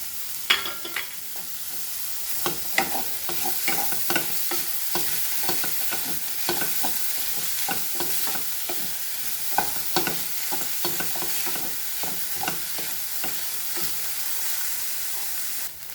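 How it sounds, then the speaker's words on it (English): Chopped onion fries in a pan for a Goan black pomfret fish ambot tik, giving a steady broadband sizzle broken by frequent stirring scrapes and clicks, close and fairly loud throughout, with no talking. "I will add a chopped onion and fry this also nicely."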